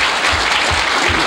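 A banquet crowd applauds Guy Valvano, a dense, loud wash of clapping that fills the room throughout this short moment.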